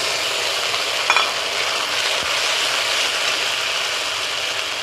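Ground cumin, ginger, chilli and garlic paste sizzles steadily in hot oil with fried onions for a loitta fish curry, a loud continuous frying hiss with a brief stirring scrape.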